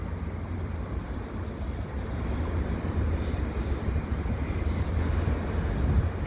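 Container cars of a CN freight train rumble by at Dorval, a constant low rolling roar with faint wheel clatter that builds slightly toward the end, with no talk.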